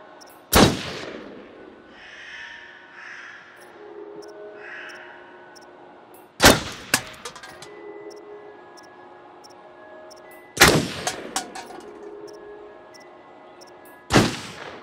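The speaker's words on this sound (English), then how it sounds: "Wow, nice shooting, Tex." Four loud, sharp gunshots spaced several seconds apart at a shooting range in the video game Until Dawn, each with a ringing tail and scattered echoes, and crow-like caws and ambient game sounds between them.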